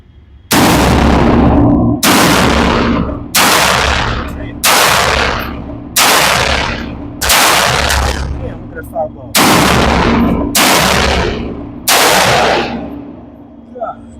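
A GQ Armory Paladin 6mm ARC carbon rifle fires about nine loud, close shots at a spaced, uneven pace outdoors, each a sharp crack with a short decaying echo.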